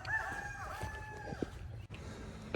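Chickens crowing and clucking inside a barn where baby chicks are kept, with a clear rooster-like cry up close followed by scattered fowl calls and barn ambience.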